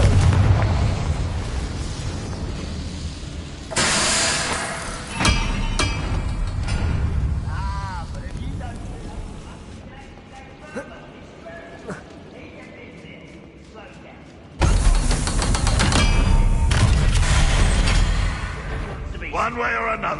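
Confringo blasting curse explosions in Hogwarts Legacy on PS5, with loud booming bursts amid combat effects and a spoken spell incantation, followed by character dialogue over the game's ambience.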